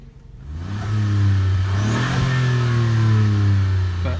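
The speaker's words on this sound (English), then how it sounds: "this 3-cylinder motor. Yes, now 3-cylinder motor. Sounds actually really quite nice." A 2018 Ford Fiesta ST's three-cylinder engine pulls away and accelerates, a steady, loud, close drone rising slightly in pitch over about four seconds, with no talking.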